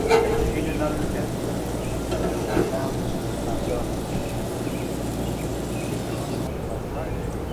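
Raw sausages fry in a pan at a campsite, giving a steady, even sizzle that runs throughout, with faint insect chirps in the background.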